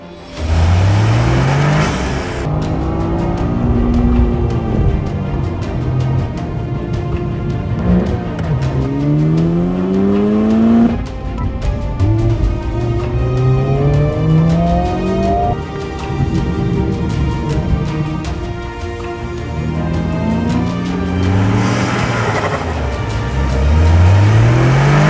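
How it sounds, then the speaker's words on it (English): A 2023 Honda Civic Type R with a 2.0-liter turbocharged inline four drives hard as a hot hatch, its engine revving up through repeated gear changes with rising, falling pitch sweeps, loud and close throughout. "Let's go for a drive and figure out which one is better"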